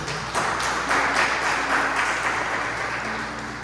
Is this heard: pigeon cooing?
no